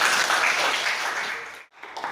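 A classroom of students claps for a classmate in a short burst of dense, close applause that cuts off sharply, then a few scattered claps return.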